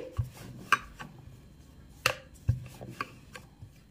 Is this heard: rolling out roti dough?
yes